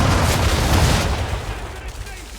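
A ship's guns fire at an enemy ship in Assassin's Creed 3: a dense, rumbling volley of booms that is loud and sustained for about a second, then rolls off into a fading echo.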